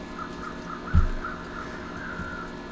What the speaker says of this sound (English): So we got the birds swarming around.